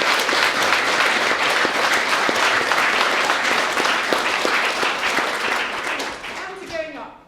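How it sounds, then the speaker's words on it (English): Sustained applause from a large audience, dense and loud, with clapping filling the hall before fading out and giving way to a voice at the end. "they deserve a round of applause"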